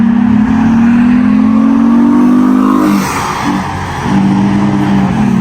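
Car engines rev hard at a drag race in Islamabad, one loud, rising engine note building steadily, dipping briefly, then climbing again, close and continuous with no talk.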